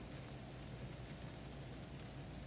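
Steady rain falling in a forest, a constant dense patter with a low rumbling hiss, heard alone at an even level throughout.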